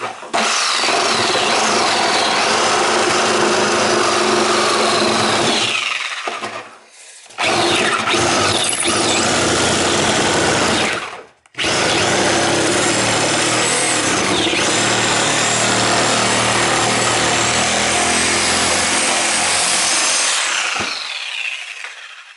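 A power drill bores through 2x4 wood lumber with a loud, harsh grinding whine. It runs continuously except for two brief drops, then cuts off near the end.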